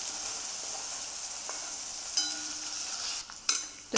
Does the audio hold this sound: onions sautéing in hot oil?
yes